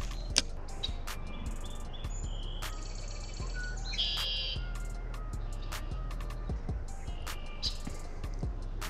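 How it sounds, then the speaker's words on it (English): Birds calling deep in the woods at a fishing spot, with several short chirps and brief whistled phrases scattered over a steady low rumble and sharp intermittent clicks and taps nearby. "You guys can probably hear all the birds out here."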